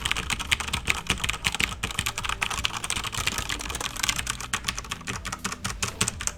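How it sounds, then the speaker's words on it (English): Continuous rapid typing on a Corsair K95 RGB Platinum mechanical keyboard, dense clacking keystrokes close to the microphone and fairly loud, with no talking. "So I'm gonna type away. So this is gonna be pretty loud."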